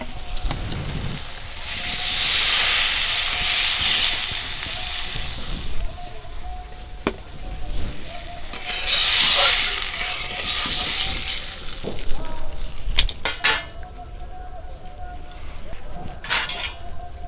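Water is poured into hot masala of coriander powder and Kashmiri chili powder for a vegetarian omelette curry, bringing two surges of hissing sizzle along with scattered clinks of a metal spatula against the pan.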